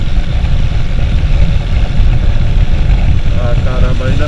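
A Suzuki Intruder 125 motorcycle engine runs close and loud with a dense low chugging rumble and wind noise, while a voice talks briefly near the end.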